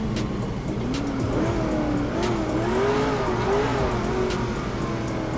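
A Dodge Durango engine in GTA 5 revs and accelerates steadily at close range, its rising and falling engine pitch continuous throughout, with occasional tire noise and no talking.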